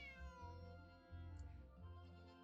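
A cat in a video game meows twice in clear, drawn-out cries, the second rising slightly, close and alone against quiet background.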